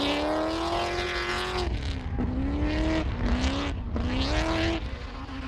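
A drift car at Barbagallo Raceway takes an aggressive corner entry, its engine wailing loudly with revs rising and dropping repeatedly under tire noise.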